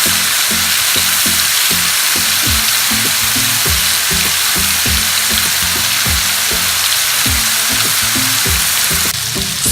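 Spices for chicken handi frying in a pan, a dense continuous sizzle with repeated scraping stirs at a regular rhythm, close and loud with no voice.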